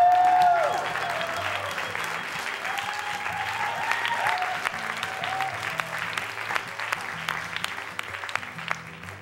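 Audience applause at a magic show: sustained clapping runs the whole time, strongest at the start and then steady, with soft background music underneath.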